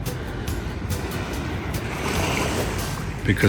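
Surf washing onto a beach in St Thomas, a steady, close rushing roar of waves with wind noise throughout, rising slightly toward the end.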